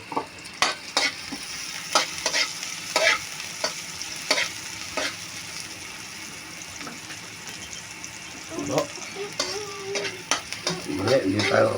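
Carrots and onions fry in a pan for picadillo, a steady close sizzle broken by frequent sharp clicks of a utensil stirring and scraping, with some louder clatter near the end.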